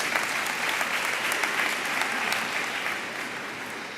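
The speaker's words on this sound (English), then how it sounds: "I have to give a round of applause to all of you who are going to celebrate with us this white coat ceremony" Guests at a dental school white coat ceremony give a steady round of applause, a continuous, moderately loud patter of many hands clapping at an even level from start to finish, with no clear talk over it.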